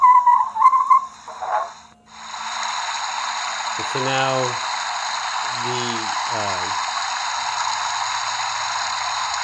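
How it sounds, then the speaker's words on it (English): A steady rushing, hissing flow of water pouring from a model railway water tower runs continuously after a brief spoken phrase, with a few low gurgling pulses mixed in. "the sound you're hearing is water being poured out."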